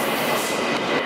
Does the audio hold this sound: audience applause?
no